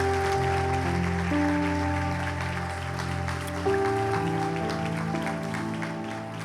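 A church congregation applauds loudly in a sustained wash of clapping over steady sustained keyboard chords.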